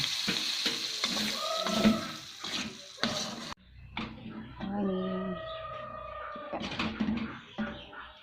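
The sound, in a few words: sautéing oysters with spring onions in a pan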